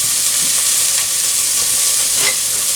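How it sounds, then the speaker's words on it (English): Mushrooms fry in oil in a wok and are stirred. A loud, steady sizzle and hiss runs throughout, and faint scraping from the stirring shows through now and then. "I'm just going to stir this around."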